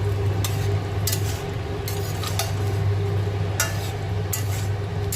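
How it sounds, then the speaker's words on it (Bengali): Mushrooms stirred into a chicken curry in a pan, with a steady sizzle underneath and intermittent scraping and clinking of a spoon against the metal. "এবার আমি মাশরুমটা দিয়ে দেব"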